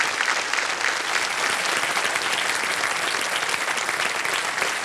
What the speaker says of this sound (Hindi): आपके साथ जितने आए हैं सब ताली बजा रहे हैं खड़े होकर।